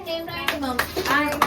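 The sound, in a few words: clapping at a kitty party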